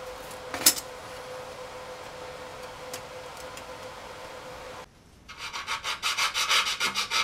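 Hand sanding on an RV-7 elevator trim tab part with rolled-up 400 grit wet sandpaper, a close, steady rhythmic rubbing that builds in repeated strokes after a quiet steady hum, with a brief tap early on.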